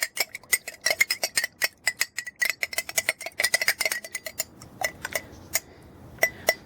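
A spoon stirs a solution in a container, giving close, rapid metallic clinks and taps in an irregular rhythm that thin out toward the end.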